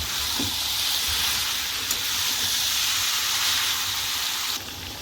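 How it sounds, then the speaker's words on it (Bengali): Potatoes, soybean chunks and spices fry together in a pan, making a loud, steady hiss and sizzle that carries on without a break, with one faint knock partway through and no talking. "এবার আলু, সয়াবিন আর মশলা একসঙ্গে কষিয়ে নেবো"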